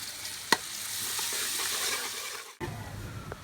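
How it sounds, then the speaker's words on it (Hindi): Spice paste frying in a karahi for Shinwari beef karahi, a loud steady sizzle with stirring scrapes and a sharp clank near the start, then a brief cut and the sizzle resumes, no talking. "इसको हम कढ़ाई में ऐड कर देंगे। और इस पेस्ट को 2 से 3 मिनट के लिए फ्राई कर लेंगे।"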